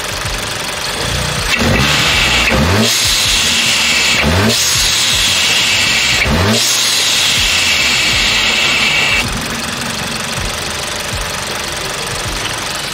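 An Audi car with a Unitronic tune revs loudly in repeated bursts, the turbo hissing and whistling over a deep exhaust rumble for several seconds before dropping back to a steady idle.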